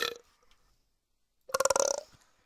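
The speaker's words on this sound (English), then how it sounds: "My burps are sitting in my stomach." One close, throaty burp follows a faint earlier grunt and a second of near-silence, a rough pulsing belch lasting about half a second, then fading out.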